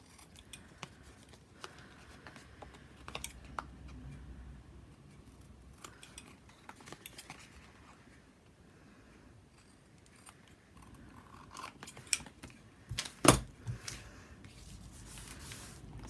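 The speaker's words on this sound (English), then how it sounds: "I'm going to trim around my tags, or my tag shapes" Scissors trim around small paper tag shapes, giving quiet, scattered snips and paper rustles close up, with a sharper cluster of cuts toward the end.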